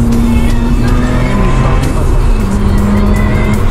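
A Mazda RX-8 or MX-5 is driven on a wet mountain road, its engine droning steadily and loud from inside the cabin, with constant road and tire noise and no break.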